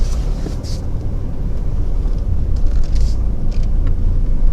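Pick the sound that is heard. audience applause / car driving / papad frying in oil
car driving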